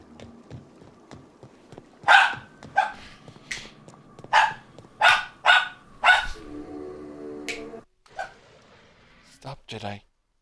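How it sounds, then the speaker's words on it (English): Several dogs barking in a home, sharp repeated barks in bursts with some yips and whimpers, fairly near, with a person talking over them. "My dogs are just a bit mental."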